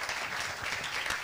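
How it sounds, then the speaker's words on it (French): A short stretch of audience applause welcoming a young entrepreneur about to pitch her project to investors, even, continuous clapping that sounds somewhat distant and soft. "Vous pouvez l'applaudir d'ores et déjà."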